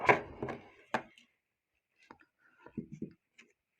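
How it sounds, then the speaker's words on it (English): A metal case back is set over a watch movement and the watch is flipped over: a few sharp clicks and taps up close, then a pause and a cluster of small knocks and scrapes, faint on a quiet bench. "Place the case back over the top of the movement, flip it over"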